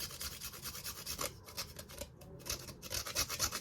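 Whole nutmeg rasped against a grater for whole wheat bread dough, a close run of quick rhythmic scraping strokes that pause briefly midway and then resume, with no talking.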